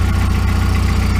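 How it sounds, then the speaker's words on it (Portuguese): Volkswagen EA111 engine idling with a worn, piston-slap knock, a steady low rumble pulsing in a fast even rhythm, close and loud with no talk. "Olha o barulho de saia de pistão dele."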